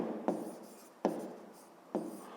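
Marker or pen strokes on a writing surface while working a fifth-grade maths exercise: three distinct scratchy writing bursts, each starting with a sharp onset and trailing off, fairly close and alone without talk.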